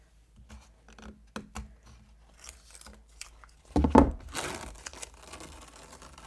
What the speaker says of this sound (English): we're going to remove our masking tape